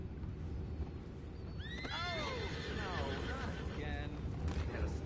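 Horses neigh and whinny in the Red Dead Redemption 2 video game, with one long descending whinny and then a shorter call, set against a dense, noisy outdoor game ambience.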